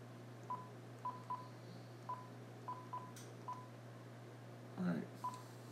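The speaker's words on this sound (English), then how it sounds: "So let's phone right now." A telephone being dialed, with a run of short, evenly sounding keypad tones in an uneven rhythm, faint and clear against steady low background hum, with a brief rustle near the end.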